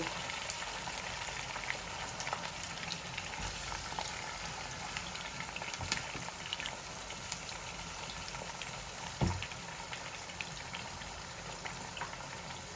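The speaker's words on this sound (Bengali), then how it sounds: "চিকেন চিকেনগুলো আমি ভাজবো" Chicken pieces for a roast fry in a pan with a steady, dense sizzle and bubbling that carries through the clip, broken by an occasional clink or stir.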